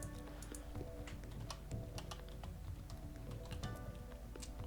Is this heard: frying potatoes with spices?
no